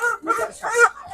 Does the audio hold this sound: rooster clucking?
yes